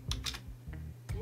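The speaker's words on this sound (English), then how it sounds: "I can just type something on the keyboard." A short run of close typing on a computer keyboard connected to an iPhone 15, several distinct key clicks in an uneven rhythm with brief pauses, quiet otherwise.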